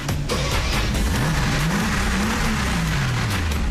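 A Mercedes-Benz G-Wagon AMG engine fires up nearby and revs, its deep tone sweeping upward and settling into a steady rumble, loud and continuous with no talking over it.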